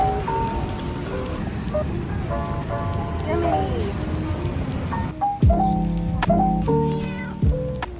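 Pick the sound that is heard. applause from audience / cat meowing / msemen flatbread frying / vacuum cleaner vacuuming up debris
cat meowing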